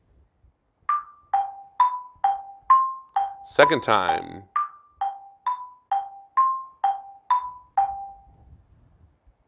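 An Orff xylophone struck with mallets plays a steady repeating melody of bright, evenly spaced notes, with a brief spoken voice over the middle, in a Thanksgiving music lesson.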